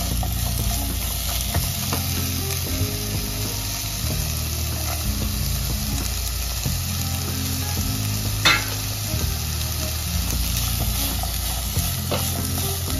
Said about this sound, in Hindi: ते कांदो भाजून येवपा जाय